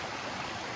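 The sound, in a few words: creek flowing over little cascades, Sipsey Wilderness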